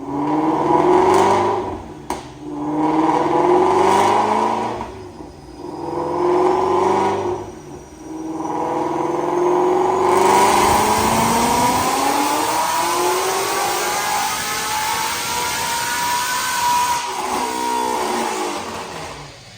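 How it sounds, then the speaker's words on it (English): A 2017 Ford Mustang GT350 V8 with a Whipple 10 psi supercharger and long-tube stainless headers revs on a dyno: several sharp blips, then a long loud pull rising in pitch with supercharger whine, close and alone. "Check out this dyno pull."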